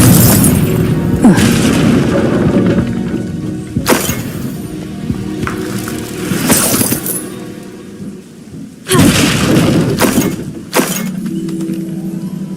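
Blasting spell Confringo detonates in Hogwarts Legacy: several sharp, loud booms with crackling, shattering debris, spaced irregularly across the scene and heard up close with little talk.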